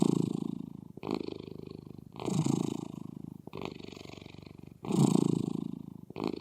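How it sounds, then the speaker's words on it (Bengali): A pet cat purrs while being stroked, a close, rhythmic rumble rising and falling in breath-paced surges about every one to one and a half seconds, each with a slight pause between. "বিড়ালকে যখন আপনি আদর করবেন, তখন সেই ভাইব্রেশনের মতো সাউন্ড করে।"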